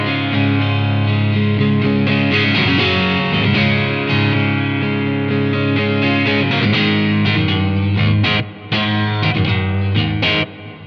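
An electric guitar on the neck pickup plays through a Blackstar St. James amp simulation at its default, non-high-gain tone, with sustained chords and notes ringing loud and continuous, alone with no talk.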